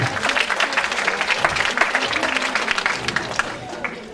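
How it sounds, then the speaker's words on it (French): An audience claps to welcome a speaker on workplace happiness through sophrology, loud sustained applause with voices mixed in, fading a little over the final second. "Alors allez, on y va, on l'applaudit"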